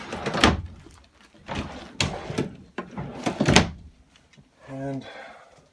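Drawers sliding open and shut in the interior of a 2022 Wildwood 42QBQ RV, a series of close, distinct thunks and rolling slides in quick succession, with a person talking over part of it.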